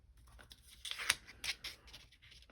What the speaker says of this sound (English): I'm gonna cut out some of this